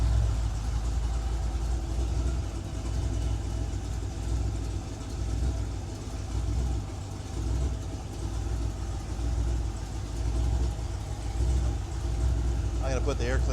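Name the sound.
Ford 302ci V8 engine idling, a little lumpy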